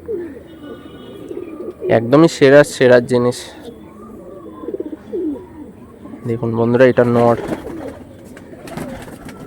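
Kalsira pigeons coo in low, throaty bursts around someone talking steadily close by, two louder clusters of calls rising over a faint background hum.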